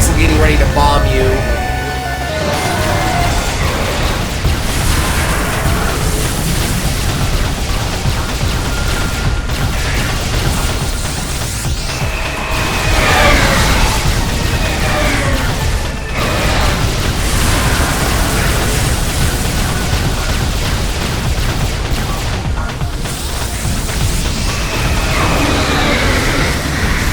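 Explosions from the bombing attack of Samus's rival in a Hard Mode boss fight in Metroid Prime Remastered, with loud, dense booms and bursts over constant game noise, while a person talks throughout.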